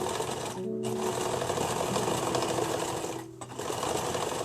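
A sewing machine stitches the ends of a handmade carbon-sequestration costume, its steady motor whir running near and loud with two brief pauses where the needle stops.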